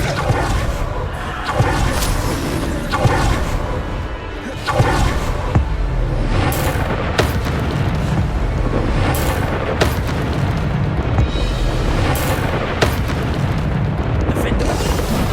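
Repeated explosive booms from the Bombarda spell in Hogwarts Legacy punch through dense fight noise, with whooshing casts and crashes scattered between blasts and a player's voice talking intermittently.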